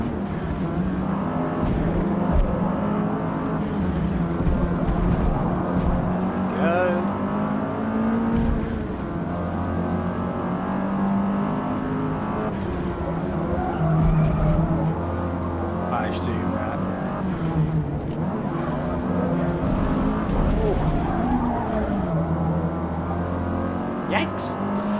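Race cars in Forza Motorsport, including an Astra GTC, drone steadily through a race with continuous engine roar and tyre noise, with a few sharp bumps from a curb, while someone talks over the action.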